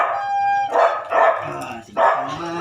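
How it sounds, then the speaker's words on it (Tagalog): A small dog, the loudest of a household's pets, barks in a few high, whiny bursts that sound almost like a crying baby, close up and loud with short pauses between. "Kala mo sanggol pag kumakahol."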